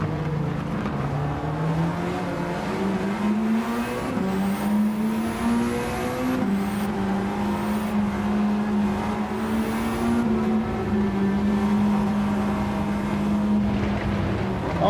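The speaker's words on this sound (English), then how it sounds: "The McLaren F1 there." Loud, steady engine drone of a McLaren F1 race car in Gran Turismo 7, holding a high rev note with small shifts in pitch and faint whistling whines, continuous and up close throughout.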